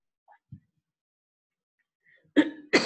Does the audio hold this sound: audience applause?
no